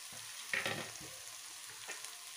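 Cooked rice with egg stir-fried in a pan for homestyle egg fried rice, a steady sizzle under scraping spatula strokes, loudest in a burst early on, with no talk.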